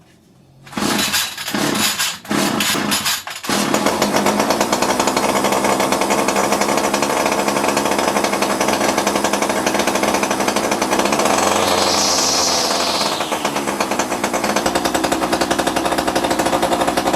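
A petrol strimmer engine fires after a few pulls and then runs loud and steady on choke, holding a constant high buzzing drone with a slight rise in pitch near the end.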